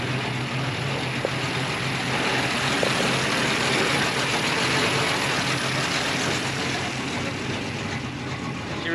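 A Silverback Camaro idles with its exhaust cutouts closed at Rocky Mountain Raceweek, giving a steady, subdued low rumble that holds evenly throughout.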